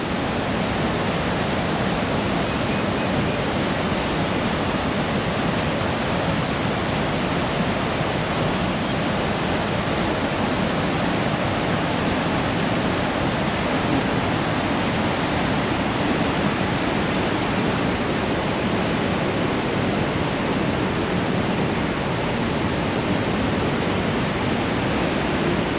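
Rushing water roars in a dense, constant broadband wash, loud and unbroken throughout with no voices.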